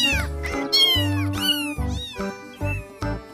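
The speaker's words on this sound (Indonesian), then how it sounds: "Wow, ini kucing." A cat meows loudly and close, about six drawn-out, rising-and-falling calls in quick succession with short gaps between them.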